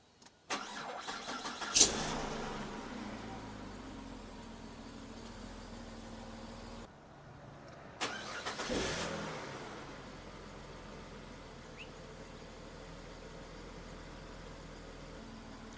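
A Ford FG Falcon engine cranks and catches, briefly shuts off, then is cranked again, fires up and settles into a steady idle.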